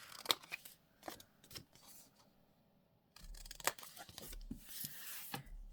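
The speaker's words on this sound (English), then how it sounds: "Let's trim those corners off." Scissors trim the corners off a paper craft project, a few quiet separate snips and rustles of paper close by, with no talking.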